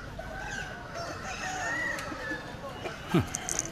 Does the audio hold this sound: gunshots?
no